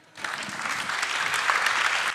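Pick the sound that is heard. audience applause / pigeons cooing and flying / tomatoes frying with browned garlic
audience applause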